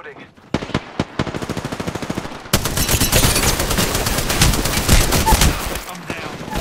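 Loud automatic gunfire in the battle royale game Apex Legends: a rhythmic stream of close shots, then a dense, sustained barrage of overlapping fire that fades near the end.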